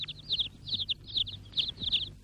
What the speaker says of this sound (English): But the birds only chirped louder.